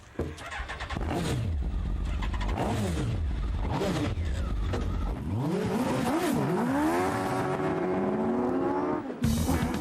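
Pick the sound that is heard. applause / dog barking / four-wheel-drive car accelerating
four-wheel-drive car accelerating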